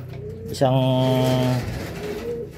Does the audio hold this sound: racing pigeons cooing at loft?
yes